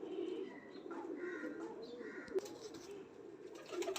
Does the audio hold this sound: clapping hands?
no